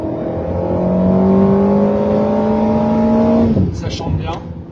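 An Alpine A sports car engine accelerates with a loud, steadily rising tone held for several seconds from inside the cabin, then drops off at a gear change as someone speaks.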